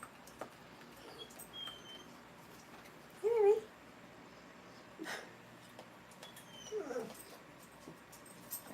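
A pet dog whimpers in a quiet kitchen while peanut butter caramel is being made, with one clear whining cry in the middle and a few fainter whines and yips later, against low background noise.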